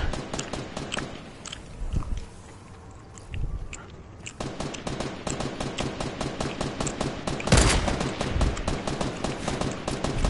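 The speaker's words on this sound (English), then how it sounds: "I'm gonna shoot at this dude since we're gonna die anyway" Rapid bursts of gunfire in the video game Fortnite, a dense crackling volley running nearly throughout with louder clusters, close and loud, with no talking.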